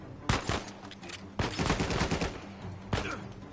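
Gunfire in a multiplayer match of Uncharted 4: three loud sharp bursts of close shots with rattling tails, separated by brief lulls.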